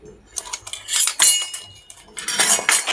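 Metal dishes and plates, including a cooker's pieces, clatter as they are set upside down, a string of close, sharp clinks and scrapes in uneven bursts with no voices.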